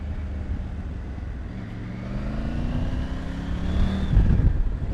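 A Triumph Tiger 900 Rally Pro motorcycle engine growls steadily while riding, its low rumbling tone slowly building and rising in pitch as it accelerates, with road and wind noise underneath.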